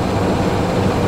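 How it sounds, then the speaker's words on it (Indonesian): A steady, loud rumble of a KLB Kericak locomotive shunting at an Indonesian railway station, a continuous low engine drone heard close with no clear breaks or voices. "Nah itu lokomotif KLB Kericak"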